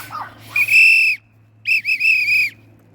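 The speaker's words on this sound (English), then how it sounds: "I got to get the whistle out because I can't blow." A dog whistle blown to call a dog outdoors, two long shrill blasts, the first about half a second and the second just under a second, close and loud with a short gap between them.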